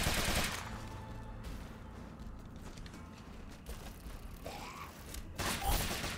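Gunfire from the video game Rogue Legacy 2 comes as bursts of rapid shots with clicking reload mechanisms, set among dense game music and effects.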